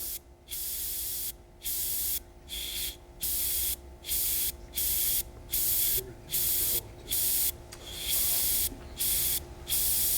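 An airbrush sprays paint in about a dozen regular short bursts of loud hissing air, separated by brief pauses, while a compressor hums steadily underneath throughout.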